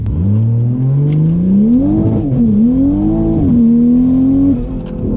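Big-turbo 2020 Toyota Supra pulling hard on a street, engine note rising steadily in a loud, continuous wail with brief dips at shifts, close and alone with no talk.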